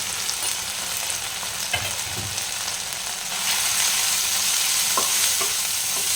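Ground turmeric, cumin, Kashmiri chilli and coriander powders stirred and fried in a pan for egg do pyaza, giving a steady close sizzle with scraping stir strokes and no talk.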